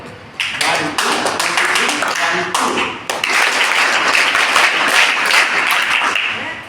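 Audience at a school's annual festival in Dahisar claps in unison as practice, a dense, loud burst of many hands that briefly dips near the third second before swelling again and continuing steadily.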